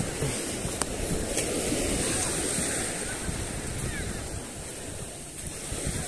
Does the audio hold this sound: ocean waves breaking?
yes